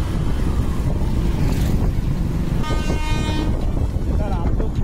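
A train passing a rural roadside spot along the Howrah to Siliguri route, with a horn-like tonal blare midway over steady, loud rumbling traffic and wind noise, recorded from a motorbike trip.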